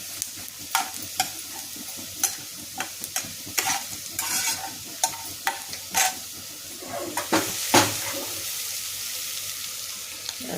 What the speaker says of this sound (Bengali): এটা একটু ভেজে দিলে সুগন্ধটা ভালো আসবে।